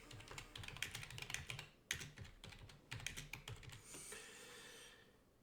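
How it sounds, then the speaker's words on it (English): Close, crisp typing on a computer keyboard as comments are entered, bursts of rapid clicking keystrokes broken by short pauses, then a softer rustle at the end. "we can go ahead and just type in whatever comments that we have"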